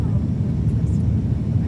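Steady loud low roar of an airplane cabin as the aircraft banks sideways on its landing approach into Ethiopia, a continuous engine and airflow drone with no breaks.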